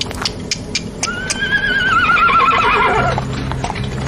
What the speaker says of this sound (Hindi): और चुपचाप कोच पर सवार हुआ और घोड़े चल पड़े